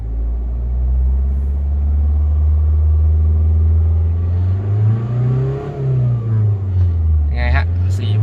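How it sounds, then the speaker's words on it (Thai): A Mazda 2 diesel engine with automatic transmission idles loudly up close, then revs up twice with rising and falling pitch, ending in a few sharp clicks. "เล่นเครื่องให้ฟังนะฮะ"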